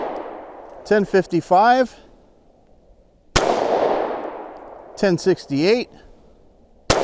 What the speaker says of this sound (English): let's go ahead and do a 5-shot group and see what our average muzzle velocity is coming out of this gun